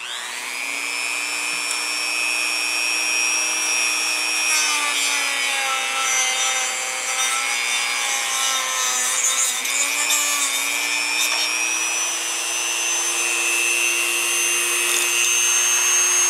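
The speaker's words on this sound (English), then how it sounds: "I'm using a little Dremel tool to cut and face up this pipe" A small Dremel rotary tool cuts and faces a supply pipe, giving a continuous high-pitched whine that shifts slightly in pitch as it bites into the material, close and alone.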